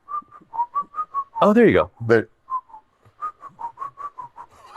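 A person's amateur whistling: a run of short, wavering whistled notes, then a break where two voices talk and laugh, followed by another sequence of thin, uneven whistles.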